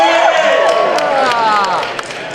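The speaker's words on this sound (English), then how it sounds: "Let's cheer" A convention audience at a Reboot fan panel, Fan Expo Vancouver, cheers and shouts loudly and continuously, with many voices blending into one dense roar throughout.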